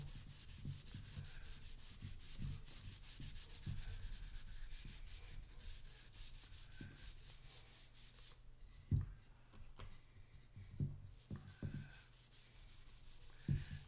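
Finish being rubbed heavily onto rosewood veneer, a steady soft scrubbing and wiping texture with occasional louder knocks of the applicator, close and continuous with no talking.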